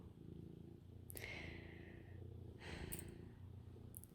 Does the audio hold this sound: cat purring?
yes